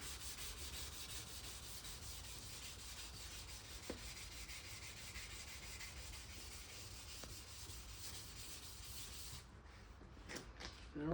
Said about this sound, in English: I'll be sanding this for a little while